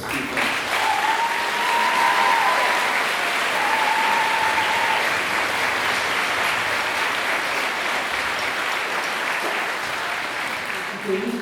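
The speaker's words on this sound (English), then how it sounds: "let's give them a round of applause for all of those people" A school auditorium crowd gives sustained applause for marching band boosters, with dense steady clapping lasting several seconds and a few cheering voices above it.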